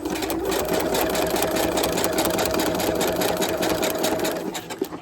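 A sewing machine stitches down thread on a kite arch in one continuous, loud, close-up run of rapid mechanical whirring that lasts nearly five seconds before tapering off.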